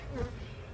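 Honey bees buzz around a backyard hive, a dense, steady low drone that hums close by and fairly quietly without pause.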